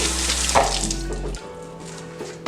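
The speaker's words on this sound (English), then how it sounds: "Wash my hands again because of course I touched the cooker" Tap water running in a kitchen sink while hands are washed, a close steady rush with a low hum that cuts off partway, leaving quieter trickling.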